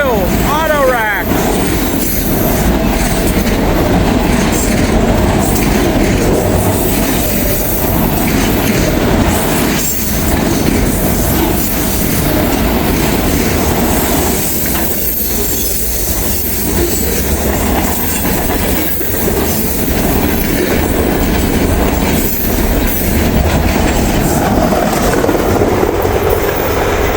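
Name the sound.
mixed manifest freight train passing at speed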